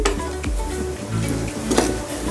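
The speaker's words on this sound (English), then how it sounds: "Saute it with the ghee and the oil with the onion." Onion and a ground spice paste sauté in ghee and oil for chicken ghee roast, a moderate sizzle broken by a few sharp scrapes and clinks of a spoon against the pan, with no talking.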